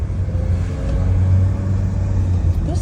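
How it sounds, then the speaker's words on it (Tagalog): Dense road traffic in the Philippines, cars idling and creeping along in a steady low rumble with occasional engine revs, heard from close by. "Ayan, super traffic."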